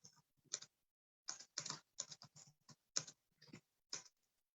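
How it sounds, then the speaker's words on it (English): Keys clatter on a computer keyboard in quick irregular clusters of taps, close and quiet, with short pauses between bursts of typing. "I can't type and talk at the same time."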